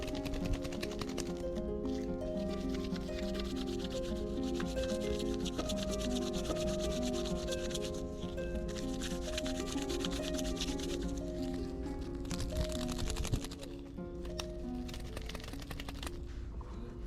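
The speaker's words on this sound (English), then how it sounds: "Open the pack and shake for 5 seconds, then rub it, wait 10 minutes." A Decathlon hand warmer pack is rubbed steadily between the hands, a close, continuous dry rustling and scraping that runs unbroken to the end with no talk.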